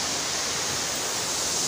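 A waterfall on a hiking trail roars as a dense, steady rush of water, loud and close, with no break and no voices.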